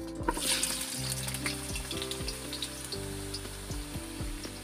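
Potatoes and carrots frying in hot oil for chicken caldereta, a steady close sizzle with repeated low knocks and stirring sounds throughout.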